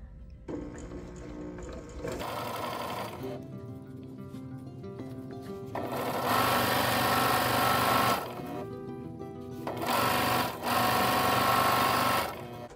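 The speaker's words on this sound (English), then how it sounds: "you will just sew all 3 pieces together with the cording enclosed" A sewing machine stitching pillow pieces together with cording enclosed, running in several bursts: a short run, then longer loud whirring stretches broken by brief pauses, heard alone and close.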